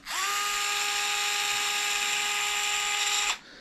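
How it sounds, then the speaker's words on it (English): A small handheld power driver spins steadily for about three seconds, loosening a screw on an RC car's caster block and steering knuckle. The whine is close, loud and even, then cuts off abruptly. "You see how nice and easy using this little power driver is?"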